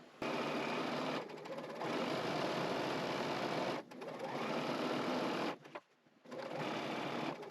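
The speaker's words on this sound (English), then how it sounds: "I can keep them together and sew down the other side." A sewing machine stitches down the side of quilt strips for a Land on Boardwalk quilt, running in steady close bursts of whirring with two brief pauses between runs, no talking.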